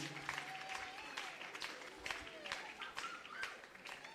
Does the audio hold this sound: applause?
yes